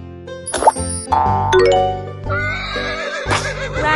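A synthesized horse neigh rings out in a children's animal-learning game, surrounded by bright electronic chimes, plops and jingly sound effects, all loud and close.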